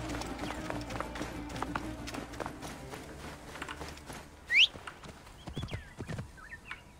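A horse summoned by whistle in Assassin's Creed Origins gallops in, hoofbeats clip-clopping steadily up close before a sharp whistle and a brief whinny as it arrives.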